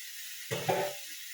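Potatoes dropped into a pan of frying methi greens, a brief burst of sizzle and clatter, then a steady hiss of frying continuing close by, no talk.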